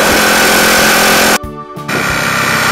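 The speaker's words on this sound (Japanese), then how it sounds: "アイドリングも安定してますね、ストンと落ちることないですね。" A Honda Chaly CF70 motorcycle with a fully overhauled engine idles at a traffic light outdoors in strong wind, a loud rapid chugging that cuts out briefly as the wind noise drops away, then resumes.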